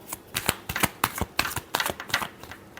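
Tarot cards are shuffled in quick, irregular clicking and flicking bursts, close and crisp. The card noises come in rapid succession across the whole stretch with no talking.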